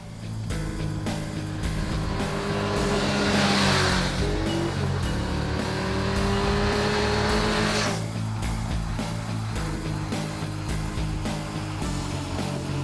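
A 2017 Kawasaki Z900 motorcycle's 948cc inline four-cylinder engine holds a steady, smooth drone throughout, its pitch rising under acceleration and then settling as gears change, with no talk.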